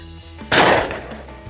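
A single loud shotgun blast fired at a shirt, sharp and close, then a short decaying echo.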